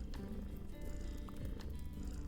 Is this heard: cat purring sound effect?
yes